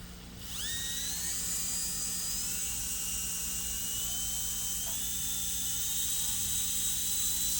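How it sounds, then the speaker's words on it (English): A coarse abrasive disc spins on a rotary handpiece with a loud, steady high-pitched whine. It runs alone for several seconds, and its pitch shifts slightly as the disc works against the material. "See, the disc is hardly doing anything to it. This is a coarse disc."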